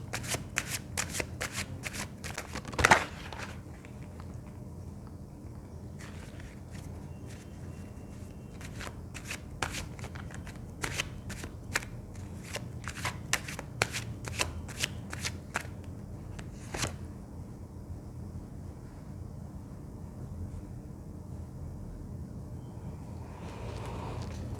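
A deck of tarot cards is shuffled over and over in a quiet room, a steady run of soft, close riffling flicks with brief pauses between them and no voices.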